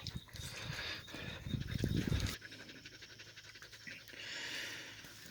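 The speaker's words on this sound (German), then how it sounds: "Und der Hund, der da ist Ngün." A dog pants in quick rhythmic breaths near at hand, loud and rough for the first couple of seconds and then quieter, with outdoor background noise during monsoon weather.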